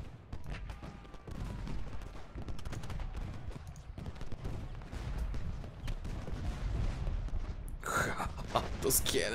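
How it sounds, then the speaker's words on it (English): Canister shot from cannons in the Ultimate General: Gettysburg battle game, a steady rumble of distant booms and crackling volleys, with a burst of sharper high-pitched noise near the end. "Those canister shots."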